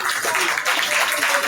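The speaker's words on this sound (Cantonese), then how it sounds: "俾啲掌聲啊，聲哥！" Clapping from an audience at a Hong Kong association's 2025 celebration gathering, a steady wash of applause with voices mixed in underneath.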